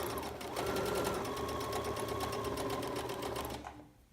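A Baby Lock Rachel sewing machine stitches parallel lines, giving a steady, close mechanical whir of rapid stitching for about three and a half seconds before it stops.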